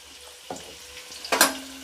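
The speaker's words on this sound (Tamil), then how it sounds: "இப்போ எண்ணெய் ஹீட் ஆயிடுச்சு. நச்சு வச்ச சின்ன வெங்காயத்தை சேர்த்துக்கலாம்." Crushed small onions (shallots) dropped into hot oil, giving a short crackling burst of frying sizzle after a faint earlier clink, close and alone.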